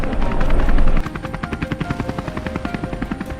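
A helicopter's rotor thumps in a fast, steady rhythmic chop after a brief louder rush of wind, the blades beating clearly and continuously.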